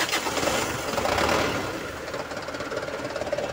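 Mitsubishi Canter 125HD truck diesel engine cranking and catching, a rough, knocking mechanical clatter that swells in the first second and a half, then settles into a steady, slightly lumpy idle close by.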